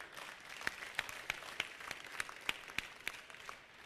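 A church congregation claps along in a steady rhythmic beat of sharp, evenly spaced hand claps over a soft crowd murmur, moderately distant and fairly faint.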